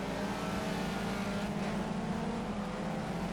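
Race car engine droning and building revs in the Project Cars racing game, a steady continuous tone heard alone at low level.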